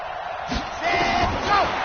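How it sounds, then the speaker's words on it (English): Stadium crowd in an American football video game before a 2-point conversion, a swelling roar with cheers and yells rising across the short stretch. "Listen to this crowd now."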